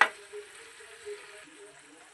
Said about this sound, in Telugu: అడుగు మాడిపోకుండా ఇలా అయితే కలుపుతూ ఉండాలండి.